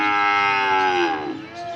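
Cattle low in a long, loud, harmonic moo that slides downward near the end, close by at an old cow market in Manikganj.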